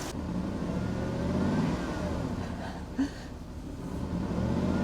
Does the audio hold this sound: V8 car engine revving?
yes